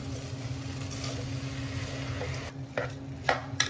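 Rice tipped into ready masala for vegetable pulav and stirred in a pan, a steady low sizzle and scraping with a few sharper clinks of the spoon near the end.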